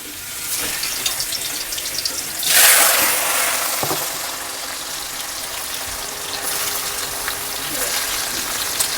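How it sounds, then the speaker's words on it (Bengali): Potatoes frying in hot oil in a wok, a continuous loud hiss and crackle that surges briefly when the potatoes go in, then settles to a steady sizzle. "আমি এবার আলুগুলো ভেজে নেব।"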